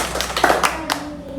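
A class performs a rhythmic group clapping routine led by a teacher, with a handful of sharp, spaced claps and a voice speaking between them.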